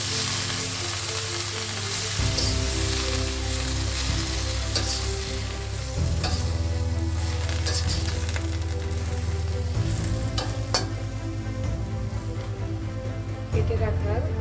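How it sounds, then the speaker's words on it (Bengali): Bottle gourd greens and small potatoes are stirred into frying shrimp, a steady loud sizzle with rhythmic scraping of the spoon against the pan and a few clanks, while a person talks over it. "এখন আগে থেকে কেটে রাখা লাউ শাক আর ছোট আলু দিয়ে দিব। ভালোভাবে মিক্স করে নেব।"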